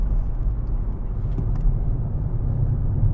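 A BMW M140i under throttle, its engine a deep, steady low rumble heard from inside the car, loud and continuous with road noise and no voices.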